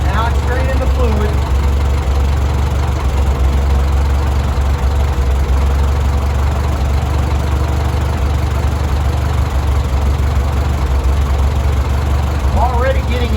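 An Oliver Super 55 tractor engine idles loudly and steadily up close while its hydraulic fluid drains, running with a continuous low drone that begins to sputter slightly.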